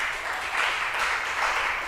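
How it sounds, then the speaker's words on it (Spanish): Church congregation applauding steadily for about two seconds, a dense, even wash of many hands clapping with no voices on top. "Démosle un aplauso al Eterno por su palabra."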